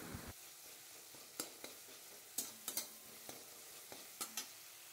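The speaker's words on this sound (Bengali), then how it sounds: "এখন খুব ভালো করে আমি তেলের মধ্যে টমেটোটাকে ভালো করে কষিয়ে নিচ্ছি।" Tomato sautés in oil while a spoon stirs it, giving a soft, low background sizzle with scattered sharp scrapes and taps against the pan, close by but quiet.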